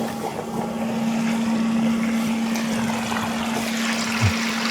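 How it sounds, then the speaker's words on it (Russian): A swimming pool filter pump runs with a steady, close motor hum and a constant tonal drone, alone with no talk. "Фильтрация, краны открыты, все запускаем."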